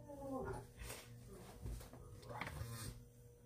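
A pet dog whimpers and makes soft, wavering howl-like cries in a home, faint and intermittent, with quiet voices in the background.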